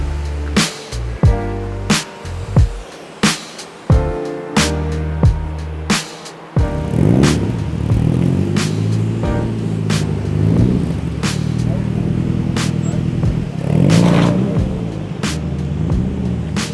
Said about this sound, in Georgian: ეხლა გააფორმებს ლაშა მანქანას და შევიყვანთ.